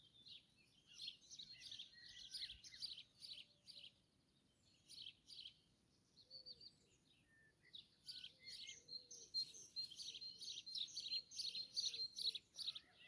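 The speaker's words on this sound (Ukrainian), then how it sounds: "А ви чуєте, як співають птахи?" Several small birds chirp and twitter in quick bursts, faint and somewhat distant, with brief gaps between phrases over a quiet background.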